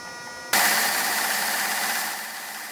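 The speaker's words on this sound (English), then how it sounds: "When using a belt sander like this," A belt sander starts up abruptly and runs steadily with a loud, broadband whirring hiss that eases slightly toward the end.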